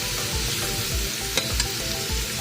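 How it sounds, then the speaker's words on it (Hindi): Onions frying in hot ghee over a high flame for chicken pulao, a steady dense sizzle with a few soft scraping stirs and two brief clinks, no talking. "अब हम इनको अच्छे से गर्म कर लेंगे और प्याज को सॉफ्ट होने तक फ्राई करेंगे।"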